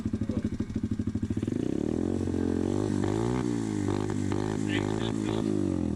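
A pit bike engine sputters unevenly at first, then settles into a steady, gurgling idle with a rough, throbbing tone, close and moderately loud, while people talk over it.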